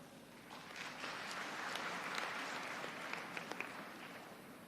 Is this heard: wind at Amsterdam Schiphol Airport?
no